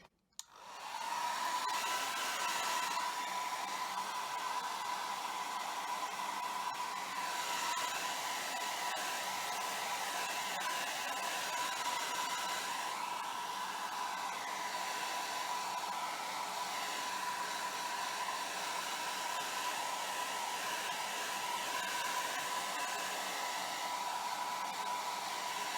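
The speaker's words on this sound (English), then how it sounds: "And just get the hairdryer and go for it." A hair dryer switches on and blows with a steady, loud whir for the entire stretch, with no talking.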